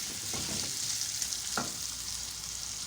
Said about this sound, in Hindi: बहुत अच्छे से फ्राई हो गए हैं।